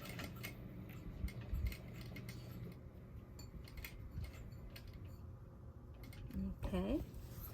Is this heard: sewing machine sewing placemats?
yes